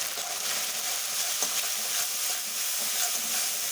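Fish curry paste of turmeric, poppy seed, mustard and green chili sizzling in a pan, a steady bright hiss of stir-frying with faint scraping, close and continuous.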